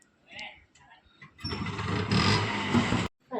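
A motorbike engine starts up and runs with a loud, rough roar for about a second and a half before cutting off abruptly, with people talking before and after.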